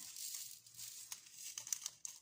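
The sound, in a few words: plastic sachet being opened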